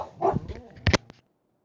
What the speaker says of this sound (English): The doggos heard something and started to bark.